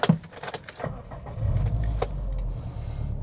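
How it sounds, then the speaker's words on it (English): A Subaru WRX sets off on a test drive: keys jangle and interior clicks come first, then the engine rumbles low and steady inside the car, with no one speaking. "let's go for a quick test drive, see how this drives"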